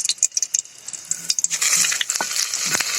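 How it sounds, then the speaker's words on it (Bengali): Cumin and chili frying in hot oil over medium heat while being stirred, a close sizzle broken by quick clinks and scrapes of a spoon against the pan, with no talk. "তখন জিরে দিয়ে ভেজে নিতে হবে"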